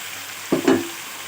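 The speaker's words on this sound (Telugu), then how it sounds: "ఇప్పుడు ఉడికించిన గోంగూర వేసుకుందాం" Boiled gongura leaves drop into a pan of cooking tomatoes and turmeric, giving a short wet splat and a brief sizzle followed by a stirring scrape over a low steady hiss.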